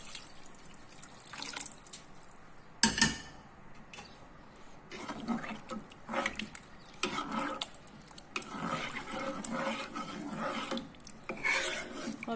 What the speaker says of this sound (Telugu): ఇప్పుడు వాటర్ పోసుకుందాం